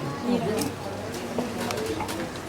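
A cuckoo clock's call sounds over a background of voices and room noise in Titisee, Germany, its soft two-note coos rising a few times.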